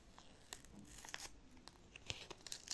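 Short bursts of tape being peeled and torn, crackly and close, repeating irregularly over a quiet background.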